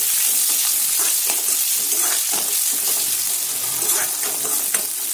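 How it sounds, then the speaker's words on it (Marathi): Onions sautéing in a pan for poha, a continuous bright sizzle and crackle of frying with occasional stirring scrapes, loud and close, no talking. "मिरच्या झाल्या की यात थोडं कांदा टाकायचा आणि कांदा चांगलं परतून घ्यायचा."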